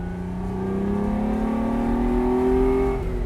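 Ferrari 246 GTS Dino engine revving loud and close from behind the seat, a steady harmonic drone climbing gradually in pitch and holding strong for over three seconds without talk.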